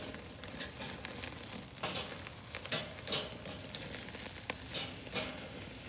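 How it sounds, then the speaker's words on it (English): Meat sears on a hot Weber 22-inch kettle grill, a steady dense crackling sizzle with sharper pops and spits scattered throughout, close and continuous with no talk. "we're getting the sear on"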